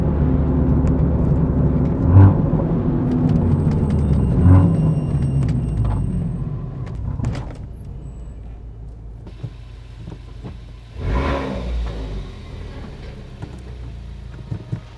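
A modified Honda Civic Type R on a shakedown drive: a steady engine drone and rumble for the first half, then a quieter cabin with scattered clicks and a brief swell of engine noise.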